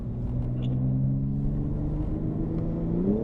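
A BMW M4 on a race track, its engine a steady loud rumble that climbs in pitch as it accelerates, continuous and close throughout.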